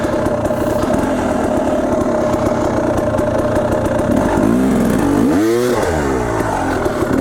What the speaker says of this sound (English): You can hear my bike really well.